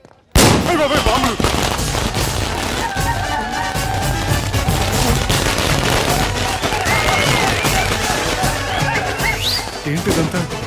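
Bomb explosions in a film comedy scene give a dense, loud stream of cracking blasts and bangs, with shouting voices mixed in throughout.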